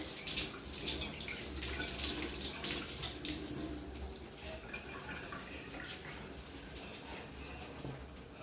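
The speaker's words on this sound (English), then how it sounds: "So I'll wash my onions, making sure they are clean." Onions being washed by hand under a running kitchen tap, a steady, soft stream of water with faint splashing and handling noises throughout, no talking.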